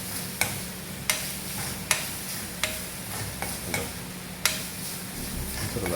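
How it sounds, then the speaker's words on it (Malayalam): Grated coconut and dried red chillies roast in a pan over a low flame for a pumpkin erissery, with a steady soft sizzle and a spoon scraping the pan at regular intervals of about a second. "തീ കുറച്ച് വെച്ച് വറുത്ത്"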